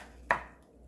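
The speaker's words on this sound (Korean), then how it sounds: "감자 이렇게 썰어서 넣어주세요" A single knife chop through a large potato on a cutting board, one crisp sharp strike that fades quickly, alone and close by, while making shrimp and vegetable porridge.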